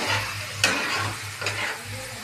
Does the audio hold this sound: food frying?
yes